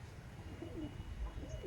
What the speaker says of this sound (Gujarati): ખેતી में કબૂતર આવી